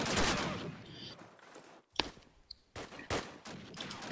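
Gunfire sounds in a Call of Duty 1.1 league match, with a few sharp shots and short bursts between quieter stretches and a commentator talking over them.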